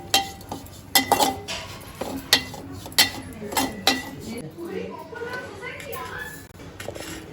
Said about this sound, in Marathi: तर आता तीळ भाजून घेऊ